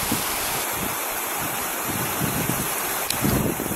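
Water pouring steadily like a shower from a spout along the Appalachian Trail in Massachusetts, a constant close hiss and splash with no talk.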